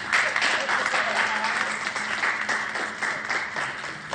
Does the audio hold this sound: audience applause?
yes